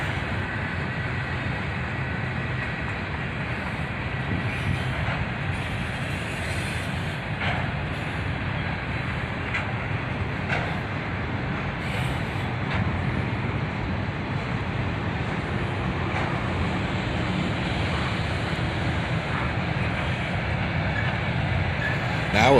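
A CSX freight train with auto racks mixed in rolls past, a loud, steady rumble of cars over the rails that carries on without a break, with no talk.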